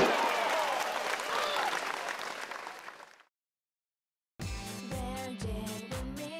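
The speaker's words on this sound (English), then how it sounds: "Let's give a round of applause for Machida-san." Applause from a crowd for a game producer's tribute, dense clapping for about three seconds that fades into silence, followed by a burst of rhythmic music.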